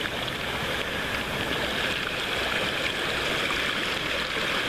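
A creek near Oak Hills above Minden rushes and babbles steadily, a dense continuous wash of flowing water heard close and loud with no pauses.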